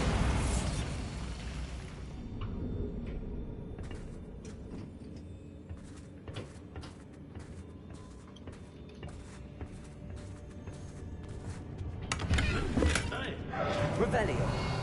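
Bombarda spell explosion in Hogwarts Legacy, a loud blast at the start followed by scattered pops and crackles, then another heavy burst near the end, with a voice talking throughout.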